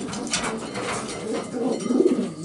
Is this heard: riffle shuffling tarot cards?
no